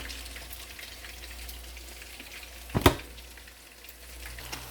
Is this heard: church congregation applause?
no